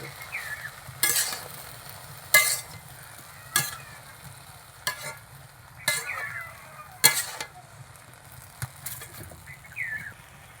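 A spiced kul (jujube) pickle mixture is stirred in a wok, with repeated scraping strokes of a spoon against the metal every second or so over a faint background hiss, close and unaccompanied by speech.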